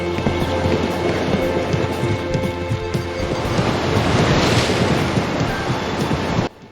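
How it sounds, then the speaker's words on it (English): Video game ocean waves in Riding Star wash and crash in a dense, hissing roar with a swelling surge midway, loud and continuous, cutting off abruptly at the end. "if you run near the ocean, you're going to hear big waves crashing."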